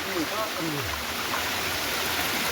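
Loud, steady rush of water gushing from a broken pipe fills the whole clip, with a voice briefly audible underneath at the start.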